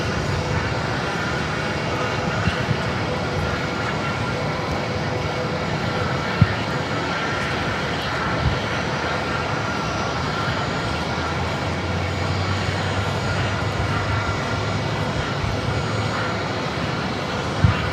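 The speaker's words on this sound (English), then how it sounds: "This arrival is American Airlines 3171 coming in from Chicago on the 737-800." An American Airlines Boeing 737-800 arriving from Chicago at Phoenix airport gives off a continuous broadband engine roar with a low rumble, steady and fairly loud, with a couple of faint clicks and no talk.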